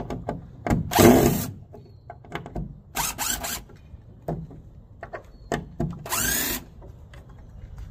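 A power drill backs screws out of an old fence being rebuilt. Three loud, close whirring bursts of about half a second each are separated by clicks, knocks and handling noises.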